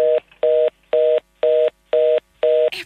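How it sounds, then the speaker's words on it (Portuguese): Telephone keypad tones being dialed, six evenly spaced loud beeps with short gaps between them, clean and close, followed by a brief click at the end. "Desliga o telefone, se faz favor."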